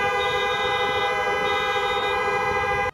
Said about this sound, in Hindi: जोर से हॉर्न बजाने लगे।